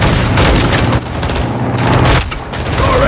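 Launcher blast in the video game Call of Duty Modern Warfare 2, loud booming explosions mixed with heavy overlapping gunfire, close and continuous across the whole moment.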